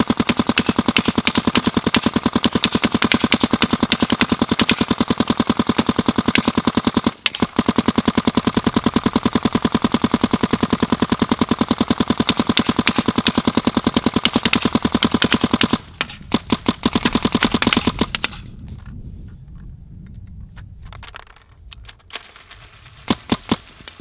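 A Planet Eclipse Geo R5 paintball gun fires rapidly in long, unbroken streams of loud, sharp shots, with one brief break, then sputters into short bursts and scattered single pops before falling mostly quiet.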